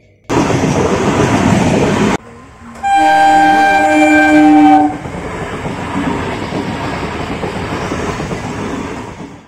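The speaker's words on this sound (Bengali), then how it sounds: "দুদিক দিয়ে এখন ট্রেন পাস হবে" A train horn blasts loud and sustained with steady harmonic tones while a train passes at a closed level-crossing gate on a winter night, preceded by loud crowd or traffic noise and followed by lingering rumble of rolling wagons.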